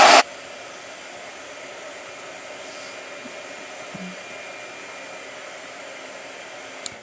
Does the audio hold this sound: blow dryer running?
yes